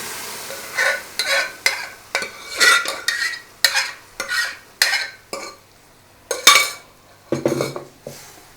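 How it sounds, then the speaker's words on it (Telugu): Turmeric being stirred into a pan for Telugu mango dal, a spoon scraping the metal in a steady run of loud, close strokes with short pauses, a light sizzle underneath and no talking. "ఈ పసుపు కూడా వేసిన తర్వాత ఒక 2 నిమిషాలు జస్ట్ సెకండ్ ఇలా తిప్పిన తర్వాత"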